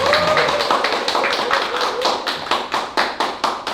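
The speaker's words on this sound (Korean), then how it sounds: "일단 박수로 먼저 맞이해 주시죠" A small audience at a book concert claps to welcome the author, with loud, close hand claps in an uneven burst that tightens into a quicker rhythm, and a faint voice at the start.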